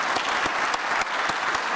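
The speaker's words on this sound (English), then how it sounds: "So thank another big round of applause for all of you" Conference attendees at an aviation event applaud a panel, a thick, continuous burst of many hands clapping, loud and close with a few sharper individual claps standing out.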